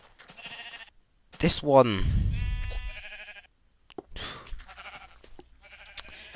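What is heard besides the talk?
sheep bleating in the video game Minecraft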